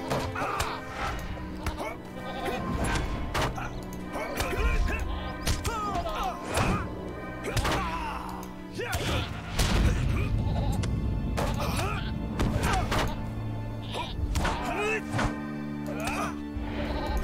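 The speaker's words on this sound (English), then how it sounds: "There we go, 3 goats." Three goats bleat repeatedly at close range amid thumps and knocking, with someone talking over and between their cries.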